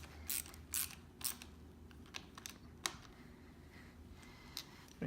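A 10 mm nut being tightened onto a motorcycle breakaway brake lever: scattered sharp metallic clicks and ticks, a few quick ratchet-like bursts, close and fairly quiet with pauses between, no talking.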